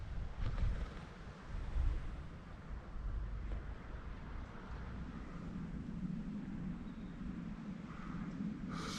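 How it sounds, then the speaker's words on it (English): Blustery wind out in the open beside the upper River Coln in the Cotswolds, buffeting the microphone in low rumbling gusts with a constant airy roar and no voices. "Still very blustery out here."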